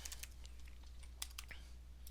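Faint, sparse keystrokes tap on a computer keyboard in a quiet room over a low steady hum, with a slightly sharper click standing out among them and no talk.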